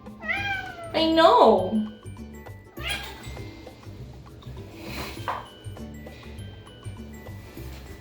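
A pet cat meows several times, loud and close, in a room under home renovation, with a person speaking softly over and between the cries.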